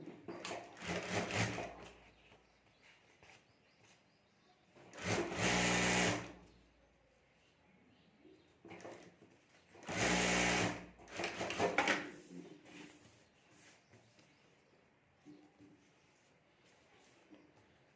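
A sewing machine stitches a zipper and lining onto a sling bag, running in three distinct bursts of rapid mechanical whirring separated by quieter pauses with faint handling noises.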